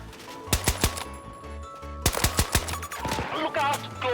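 Battlefield 2042 gunfire cracks out in two quick clusters of sharp shots, each a rapid string of bangs, followed by a stretch of rattling fire and background battle noise.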